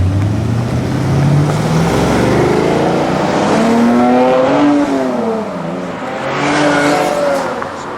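A Chevrolet Camaro's exhaust, with a valved muffler, rumbles and rises in pitch as it revs, sweeping up and down repeatedly, loud and close.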